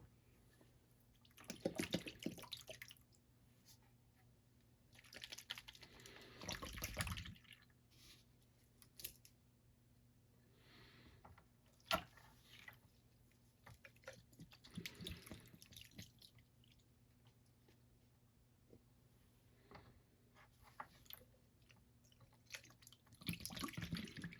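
Water sloshing and trickling in bursts as a snuffer bottle is emptied during a gold paydirt panning session, with quiet drips and squishes between louder pours, close by and with no talk.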